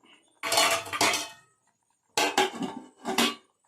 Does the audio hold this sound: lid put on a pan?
yes